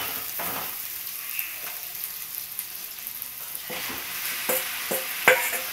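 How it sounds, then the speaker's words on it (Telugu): Chicken frying in a pan with green chillies, ginger-garlic paste and turmeric, a steady close sizzle with occasional stirring scrapes and a few sharper spatters toward the end, no voices. "చికెన్ ఫ్రై ఇది."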